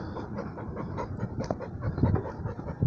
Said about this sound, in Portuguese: O Baruque tá cansado.